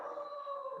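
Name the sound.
dog howling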